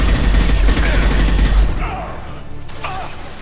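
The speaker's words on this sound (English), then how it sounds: "That's a flashbang." Flashbang going off in Mass Effect 2 gameplay, a loud close burst of crackling, blast-like noise that fades over the next couple of seconds into quieter game sounds.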